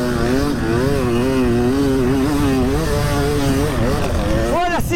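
KTM motorcycle riding in sand, its engine note a loud, close, continuous drone that wavers in pitch, then rises sharply in a rev burst near the end.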